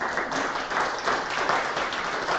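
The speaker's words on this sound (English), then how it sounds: "give Erin a round of applause for her film" An audience at a book-challenge finale event applauds a filmmaker after her documentary, a steady, dense wash of many hands clapping together at moderate volume, continuous throughout with no talk over it.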